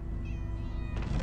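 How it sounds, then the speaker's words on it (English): Several cats meow in the video game Minecraft Story Mode, a drawn-out mew rising over a steady background hum, followed by a second brief cry. "Oh, many cats, so many cats."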